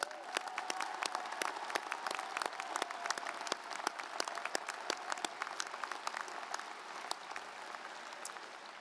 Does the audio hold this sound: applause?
yes